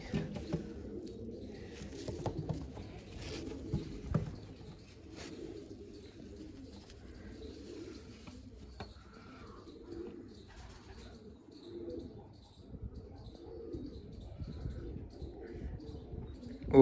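Pigeons coo in a low, repeated murmur at a rooftop loft or tower, steady and fairly close, with faint chirps above and no talk.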